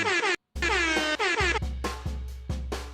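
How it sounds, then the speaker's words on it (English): A malfunctioning air horn blasting in a series of loud, sputtering honks with abrupt cutoffs and a short gap, each blare breaking off unevenly. "my air horn seems to be broke"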